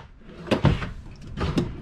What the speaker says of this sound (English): Got some drawers here.